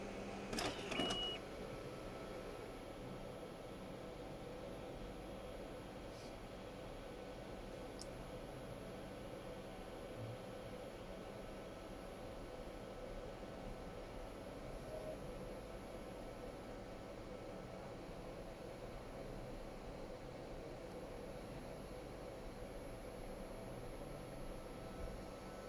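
An Evolis Primacy 2 card printer works through its printing layers with a steady, continuous mechanical whir and hum, with a few brief clicks near the start and no one talking.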